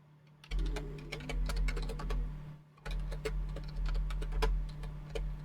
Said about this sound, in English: Enjoy the dulcet tones and clickety clack of my strangely shaped keyboard.